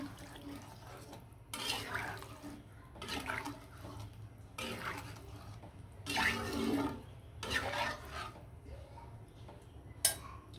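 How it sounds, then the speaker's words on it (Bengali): Water poured into a hilsa fish and tomato curry in several short splashing bursts separated by quiet gaps, close and moderately loud, with no speech. "পরিমাণ মতো জল দিয়ে দিলাম"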